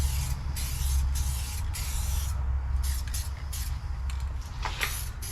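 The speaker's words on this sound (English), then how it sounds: "This is not like regular spray paint." Fast-drying red spray paint hisses from an aerosol can in a steady series of bursts with brief pauses between them, close and fairly quiet, with no talking.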